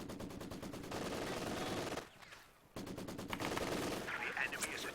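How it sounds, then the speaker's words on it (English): Bursts of MG42 machine gun fire in Company of Heroes 2, rapid rattling volleys that run loud and continuous, break off briefly, then resume amid other gunfire and battle noise. "Another MG42 here getting set up in a great position"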